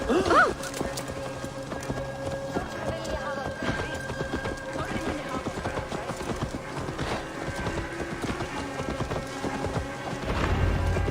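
Horse hooves clip-clopping in the video game Assassin's Creed Valhalla, a steady rhythmic trot of close hoofbeats throughout, with a brief whinny and game music underneath.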